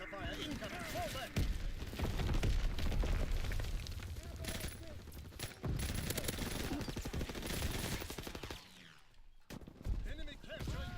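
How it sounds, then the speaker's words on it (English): Heavy battlefield din in Call of Duty: WWII, with booming mortar impacts and rattling gunfire layered densely throughout, loud and continuous with brief dips, while voices call out over the combat. "Enemy mortar fire incoming."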